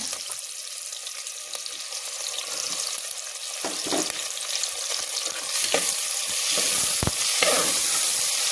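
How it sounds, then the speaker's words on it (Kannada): Sliced onion and tomato sauté in hot oil for soybean biryani, a steady close sizzle with occasional scraping stir strokes and a few sharper crackles, no talking. "ಸ್ವಲ್ಪ ಹೊತ್ತು ಎಣ್ಣೆಯಲ್ಲೇ ಬಾಡಿಸ್ಕೊಳ್ಳೋಣ"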